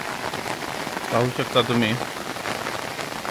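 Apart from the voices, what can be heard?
rain falling in a village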